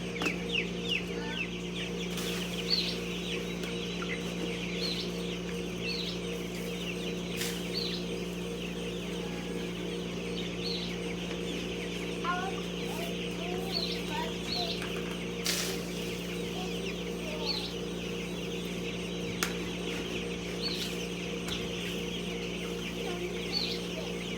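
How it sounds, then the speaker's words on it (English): Backyard chickens cluck and chatter repeatedly at feeding time over a steady low farm hum, with occasional soft knocks and rustles close by. "As soon as we get done feeding the chickies"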